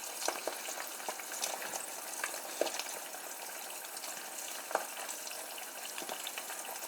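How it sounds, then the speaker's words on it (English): Butter eggs frying in a pan, a steady bright sizzle with scattered pops and crackles throughout, close and continuous with no talking. "The eggs have to cook a little longer, which are called the butter eggs."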